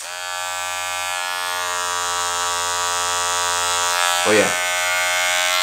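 Electric hair clipper running with its plastic blade guard removed, a steady close buzz throughout, and someone briefly speaking over it near the end.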